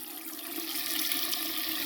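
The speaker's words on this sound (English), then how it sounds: "So right, so I'm gonna run the hot water." Hot water running from a sink tap during drain unclogging, a steady hissing stream of water at moderate level, continuous and alone.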